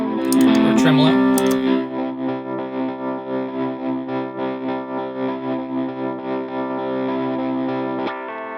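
Electric guitar through the tremolo effect of a mini loop station, a strummed chord at first, then sustained notes pulsing in a steady, even rhythm of regular volume swells before cutting off.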